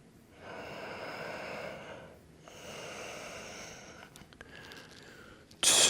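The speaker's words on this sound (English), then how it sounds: "For 3, slow and long breaths here." Two slow, long breaths drawn during a men's yoga class, each a soft airy rush lasting about two seconds, close and alone, followed by a brief sharper exhale at the end.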